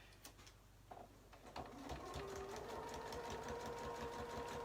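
A sewing machine stitches across the bottom of a pocket, starting with a few hesitant clicks before settling into a steady, fast mechanical whir. The machine is heard close and alone.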